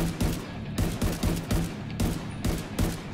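Rapid bursts of gunfire in the video game The Division 2, sharp repeated shots in a steady rhythm of about two per second, loud and close.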